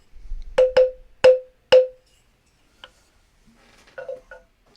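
A moktak, a wooden percussion block, knocked four times with sharp, hollow, evenly spaced strokes, followed by a few fainter, softer taps.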